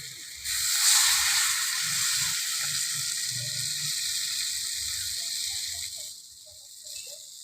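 Water poured into a hot pan of Bengali crab curry gives a loud, steady sizzling hiss that bursts up at the start and then settles into continuous bubbling until it fades near the end.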